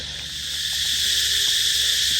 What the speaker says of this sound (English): That is the sound of an awful lot of insects making an awful lot of noise